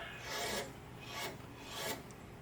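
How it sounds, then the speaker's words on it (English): The brake system pump of a 2007 Toyota Prius pushes out brake fluid during a flush, making three faint, rhythmic rasping swells spaced about seven tenths of a second apart. "the pump in the brake system is pumping out the brake fluid"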